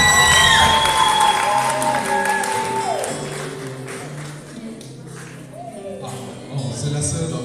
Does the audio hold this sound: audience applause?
yes